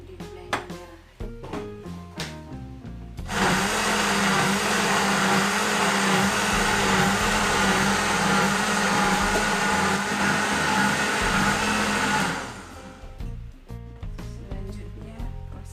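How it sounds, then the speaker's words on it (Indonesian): A kitchen blender whirs loudly and steadily for about nine seconds, grinding spice paste with lemongrass and water for ikan mas arsik, between stretches of lighter clattering and handling noises. "Siap kita untuk di blender."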